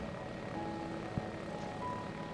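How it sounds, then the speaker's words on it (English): Progressive Aerodyne SeaRey amphibious homebuilt flying boat in flight, its propeller engine a faint, steady distant drone with a brief thump partway through. "that, ladies and gentlemen, is the SeaRey, Progressive Aerodyne SeaRey flying boat"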